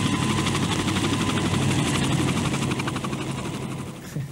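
A helicopter drones loudly with a rapid rotor chop and engine whine, steady and close before fading slightly toward the end.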